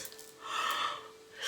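A person yawns, producing one long, breathy, airy exhale that swells and fades, followed by a short intake of breath; quiet and close, with no talking.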